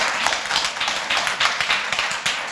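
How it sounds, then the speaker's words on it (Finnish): An audience at a Finnish association's speaking event claps after an award announcement. The applause is steady and crisp, with many hands clapping in a close, moderately loud burst and no talk over it. "Saa taputta."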